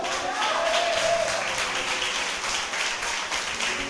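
A church congregation applauding, dense steady clapping from many hands filling the room, loud and sustained throughout with some voices mixed in.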